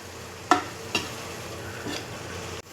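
Garam masala being stirred into a sizzling biryani base, a soft continuous fry hiss with two sharp spoon knocks against the pot near the start.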